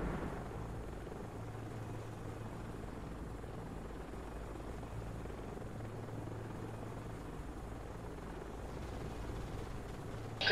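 Helicopter rotor drone from the PC combat game Comanche 4, a steady low throbbing hum that holds evenly throughout at moderate level, with no speech over it.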